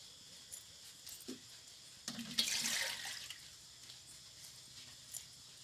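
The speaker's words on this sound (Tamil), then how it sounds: "அடுத்தது கொஞ்சமாக தண்ணி ஊற்றிக்கலாம்." Water poured into a pot for making tea in a village kitchen, a short faint splashing gush around the middle with small clinks before and after, no talking.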